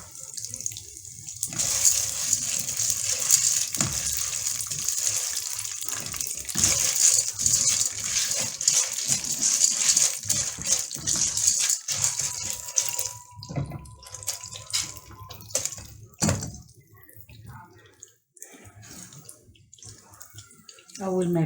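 Popcorn kernels poured into hot oil in a home kitchen pot, making a sustained hissing sizzle broken by scattered clatters and knocks, loud and close, fading out before a brief renewed hiss at the end.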